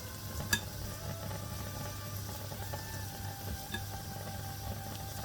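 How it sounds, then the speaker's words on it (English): Nigerian puff puff dough balls frying in hot oil, a steady low sizzle and bubbling running throughout with a few faint clicks, quiet and close with no talking. "we are going to leave it for 3 minutes to fry"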